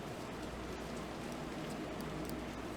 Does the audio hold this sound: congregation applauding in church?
no